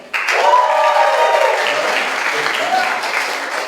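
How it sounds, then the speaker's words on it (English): A stand-up comedy crowd answers the comedian with a burst of clapping mixed with whoops and cheering voices, starting abruptly, close and loud, then easing slightly while staying sustained. "round of applause for anyone here who's watched the show Shark Tank"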